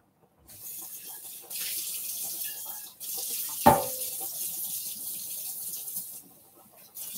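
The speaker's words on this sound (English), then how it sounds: "We're going to rinse this out." Tap water running steadily into a cooking pot during rinsing, a close hissing splash that starts and stops in stretches, with a brief clunk partway through.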